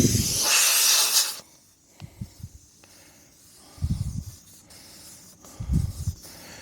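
Air rushes out of a stuck vehicle's tire valve in a loud steady hiss lasting about a second, followed by several shorter, quieter bursts of hissing separated by pauses.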